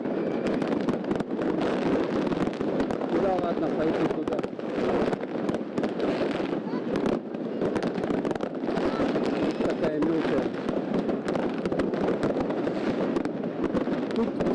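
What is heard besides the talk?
New Year fireworks exploding in Yakutsk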